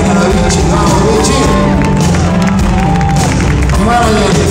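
A concert crowd at the Metropolitan in Mexico claps and cheers loudly and continuously, with whoops and shouts rising over dense applause throughout.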